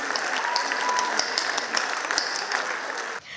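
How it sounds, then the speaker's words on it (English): Steady, dense applause fills a school annual day hall after a pre-primary children's dance performance, a continuous wash of many hands clapping at even loudness, ending abruptly. "Let's give them a rhythmic round of applause for this foot tapping dance."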